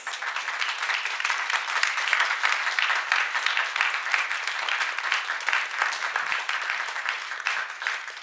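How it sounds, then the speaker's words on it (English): Steady, sustained audience applause after a discussion event on photography and film, a dense wash of many hands clapping at an even level without pause. "Let's get a round of applause."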